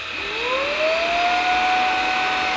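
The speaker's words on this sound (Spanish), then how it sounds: "cuando vayamos ahora a aspirar" A household vacuum cleaner starting up, its motor whine rising quickly in pitch, then settling into a loud, steady high drone that runs on alone without talking.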